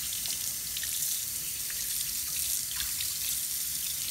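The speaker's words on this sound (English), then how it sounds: "if you keep your hand under that water for long enough" Water runs steadily from a tap while hands are washed under it, a continuous close hiss and splash with small irregular spatters.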